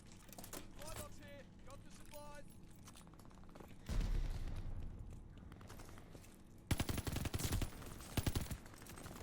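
Vargo-S assault rifle fire in Call of Duty Vanguard on the Desolation map, rapid automatic bursts that grow louder and denser toward the end, with quieter game sounds and distant shots earlier.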